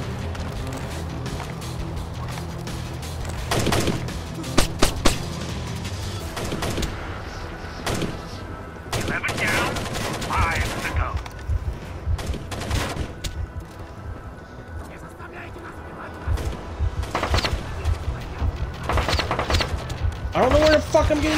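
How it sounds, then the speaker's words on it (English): Gunfire in the stealth video game Splinter Cell Double Agent, a scatter of sharp shots and bursts cutting through a busy game soundscape, with someone talking over much of it. "I'm getting shot at"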